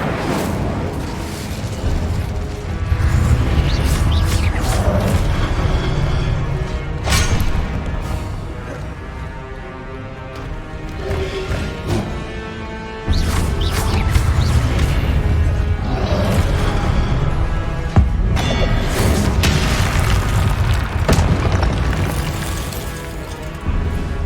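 Repeated Confringo spell explosions in the video game Hogwarts Legacy, heavy rumbling booms and crashing bursts rolling in waves over a sustained game music bed, loud and continuous, without speech.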